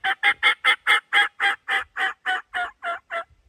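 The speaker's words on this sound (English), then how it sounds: "I swear I just heard a gobble over where I struck him at" A wild turkey gobbles in open country: a string of about thirteen rapid, loud, even gobbling notes that fade slightly toward the end, heard clearly with no voices.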